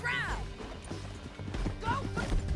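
Horses galloping during a frantic Red Dead Redemption 2 canyon escape, hooves pounding under loud shouting voices, with whinnies rising briefly at the start and again midway.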